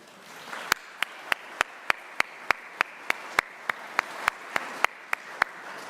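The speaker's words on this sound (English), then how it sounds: "Give yourselves a claps because you have done a huge job." Audience applause at a local government party speech in Bolton, heard as evenly spaced sharp hand claps, roughly one every quarter second, loud and close over a faint room hiss.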